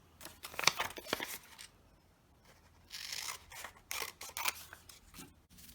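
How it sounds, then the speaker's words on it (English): Scissors cutting paper into squares, several short snipping and rustling bursts separated by quiet pauses, close and fairly soft. "So you'll open these up, cut this in half, and cut this in half."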